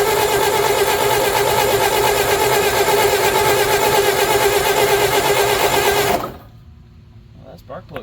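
An old Bobcat's engine runs loud and steady at close range with a fast, even buzzing chatter, then cuts out abruptly, leaving quiet with a few small clicks and handling noises.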